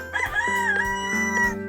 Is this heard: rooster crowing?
yes